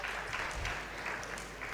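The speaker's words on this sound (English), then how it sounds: "let's give one massive round of applause again to our school category judges" Steady, fairly soft audience clapping for the school category judges at a university robotics competition in Sri Lanka, continuous through the moment with a sharp rise at the very end.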